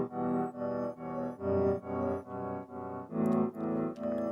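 A short melodic loop of eight swelling notes in an even rhythm, each fading in and cutting off abruptly, giving a backwards, sucked-in feel.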